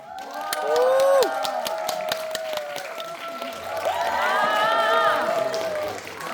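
Cinema audience at a film stage greeting in CGV Yongsan I'Park applauds and cheers as the director and cast walk on stage, with steady clapping under high, swelling shrieks and cheers that surge again midway.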